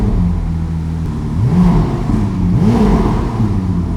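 A Ferrari 296 GTB starts up with a loud, close whirring engine hum that rises in a few quick swooping revs before settling into a steady idle.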